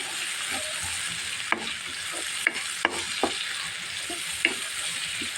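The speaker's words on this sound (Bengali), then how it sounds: "এখন আমি সিমগুলো খুব সুন্দরভাবে কষিয়ে নেব" Yardlong beans with prawns stir-fried in a pan for a spicy bhuna curry: a steady broad sizzle runs throughout, broken by several sharp scrapes and clacks of a spatula against the pan, with no talking.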